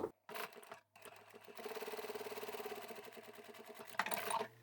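A sewing machine stitching a quarter-inch seam allowance with a backstitch, its rapid mechanical stitching rhythm heard close up in short bursts separated by pauses.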